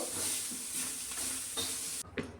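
Bitter gourd frying on a tawa with tamarind juice: a soft, steady sizzle with light stirring scrapes, which cuts off sharply near the end and leaves a brief clatter.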